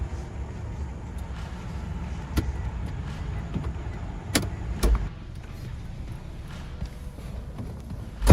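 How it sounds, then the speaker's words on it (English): A Kia Optima engine idles after a remote start, a steady low rumble with a few sharp clicks and knocks, then a louder burst at the very end; no talking. "And here you go, the car started."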